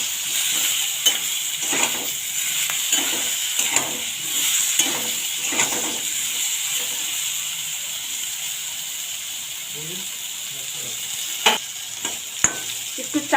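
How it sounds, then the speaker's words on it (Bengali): Eggplant fries in oil with a little salt, giving a continuous loud sizzle. A utensil repeatedly stirs and scrapes the pan in a rhythmic pattern, and a few sharp metallic knocks come near the end. "একটু লবণ, বেগুনটা লাল করে ভেজে নিব।"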